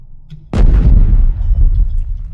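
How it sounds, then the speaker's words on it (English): A single loud explosion erupts in a video game, a sharp close blast that rolls into a heavy rumbling decay lasting about two seconds. "Will we go kaboom? Let's find out. Well, it went kaboom."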